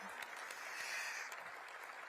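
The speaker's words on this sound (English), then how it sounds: "give them a round of applause" An audience gives a sponsor, HAP, a short burst of steady applause at a live event, an even wash of clapping that sounds fairly quiet and distant.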